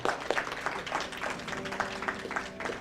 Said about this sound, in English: everybody should be applauding for that.